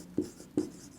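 Two short scratchy strokes of writing on a board during a Hindi-language grammar lesson, close and distinct, separated by a brief pause with no talk over them.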